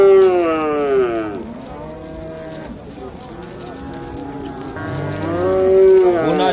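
A cow at a busy livestock market, where calves, heifers and lambs are being sold, lets out two long, loud, close moos separated by a brief pause.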